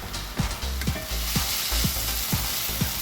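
Ground meat with garlic and onion browning in a pan for baked ravioli: a loud, steady sizzle with a rhythmic spatula scrape roughly every half second, close up.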